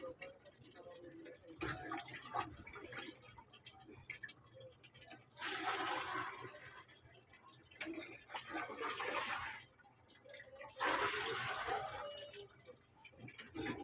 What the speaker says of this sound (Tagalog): Nag-iipon ako ng tubig.